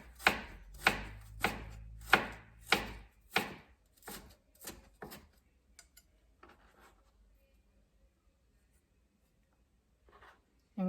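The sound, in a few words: knife cutting onion into julienne strips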